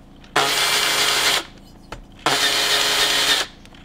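Engine valves are lapped by turning each valve against its seat, giving two long, steady grinding whirs of about a second each with a short gap between them, loud and close, with no talking.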